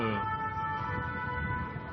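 Wailing sirens of several fire engines and ambulances responding to an attack in Paris, a steady continuous tone rising and falling nearby, heard alone without talk.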